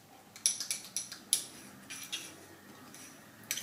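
Metal spoon clinking and scraping against a small dish while mixing homemade gouache paint, several light taps in quick succession, close and fairly quiet, with no talking.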